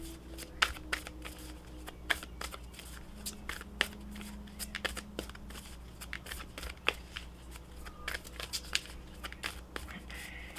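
Repeated soft riffling and snapping of tarot cards being shuffled, a steady run of quick papery clicks close by with no talking.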